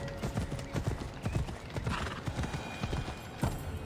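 A fire horse gallops in Assassin's Creed Odyssey, with rapid rhythmic hoof clip-clops thudding steadily throughout and a brief whinny near the end, close and alone.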